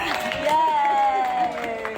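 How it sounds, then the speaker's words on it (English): Convention panel audience at Dragon Con applauding, a brief dense patter of clapping with a cheer and voices mixed in across the whole moment. "Everybody, round of applause for Dean"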